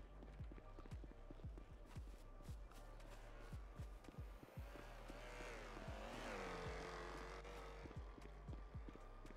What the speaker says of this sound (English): I get nervous when I hear cars running up like that